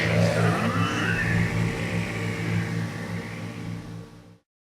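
A getaway car engine runs loudly and steadily up close, revving with a rising and falling whine before cutting off abruptly.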